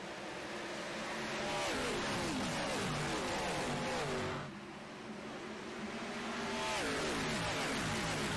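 Field of stock cars in a racing video game getting underway at Darlington Raceway, a dense roar of many engines revving and shifting together, steady and loud with a brief dip midway, no talk.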